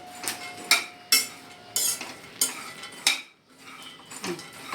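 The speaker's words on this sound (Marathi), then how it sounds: "आता दाखव शेंगदाणे भाजताना" Peanuts roasting in a pan, stirred with a metal utensil that scrapes and clinks against the pan in repeated strokes, close and fairly loud, with no talk.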